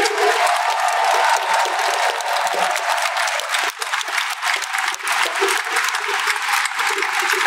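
Crowd applause with cheering at a Yu-Gi-Oh! trading card game conference at Japan Expo 2025, a dense, loud wash of clapping that stays strong the whole time, with a brief dip near the middle.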